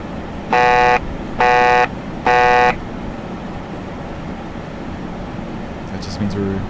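Three identical electronic beeps, evenly spaced and fairly loud, sound the altitude alert in an ERJ-145 cockpit in a flight simulator game over a steady cabin hum, followed by a brief faint click.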